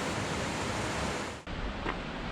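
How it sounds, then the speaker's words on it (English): Water roars steadily and continuously at High Force falls, a broad dense rush with a brief dip partway through before it resumes at the same strong level. "This might be high force falls."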